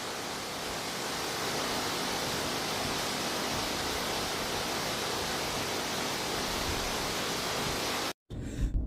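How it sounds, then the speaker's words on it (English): Heavy waterfall running high after rain, a dense, steady roar held at full strength for about eight seconds before cutting off abruptly near the end. "Let's focus on the waterfall's beauty."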